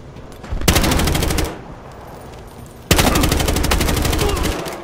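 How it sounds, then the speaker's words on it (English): Automatic gunfire rattles in the video game Battlefield Hardline as two loud, rapid bursts, each about a second or more long, separated by a short gap. "Taking heavy fire!"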